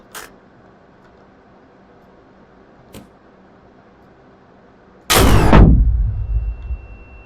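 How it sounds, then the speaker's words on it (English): A rocket launcher fires in the driving game Drive Beyond Horizons: after a couple of faint clicks, a sudden loud blast erupts and then tails off into a rumbling decay over the final two seconds. "I suppose you could use a rocket launcher"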